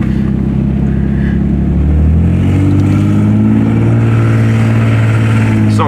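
A 1991 Nissan 300ZX 2x2 revs hard as it pulls away, its engine note climbing steadily and staying loud and close throughout.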